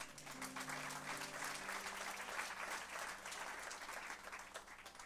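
Sustained applause from a church congregation acclaiming the Lord during a French-language sermon, a dense steady wash of clapping with a faint held musical tone underneath, lasting the whole stretch at even loudness.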